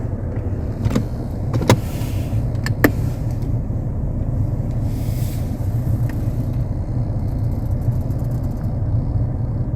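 A very cold car pulls away slowly after a seven-minute warm-up, kept under 2000 rpm. A steady low engine rumble dominates, with a few sharp clicks near the start and no talking.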